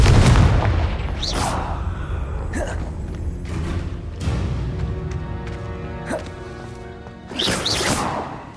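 Confringo explosion spell cast in the Hogwarts video game: loud booming blasts and crashes with whooshing bursts, several impacts spread across a busy, continuous game soundscape.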